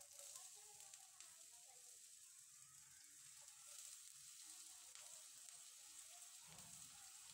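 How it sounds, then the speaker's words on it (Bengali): Potatoes frying in mustard oil in a wok give a faint, steady sizzling hiss throughout, with a soft low thump near the end and no voices. "আমি এখানে সরিষার তেল দিচ্ছি, আপনারা সাদা তেলও ব্যবহার করতে পারেন। প্রথমে আমি আলুটা দিয়ে দিচ্ছি।"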